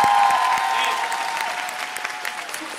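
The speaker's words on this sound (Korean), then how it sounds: "오케스트라 분들께도 다시 한번 박수 한번" A concert audience at a K-pop fan event applauds the orchestra in a steady wash of crowd clapping that slowly fades, with a faint tonal ring at the start.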